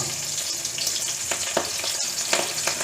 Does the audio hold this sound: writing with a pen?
no